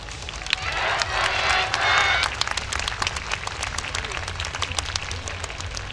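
Festival crowd clapping and applauding at an outdoor YOSAKOI Soran dance performance in light rain, a dense wash of hand claps at first, thinning into scattered rhythmic clapping with crowd murmur.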